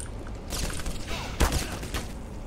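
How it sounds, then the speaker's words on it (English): Enemy gunfire in Black Mesa: a sustained rattle of rapid shots with one louder close burst in the middle, fairly near and continuous over a constant background. "You guys are shooting at me for no reason."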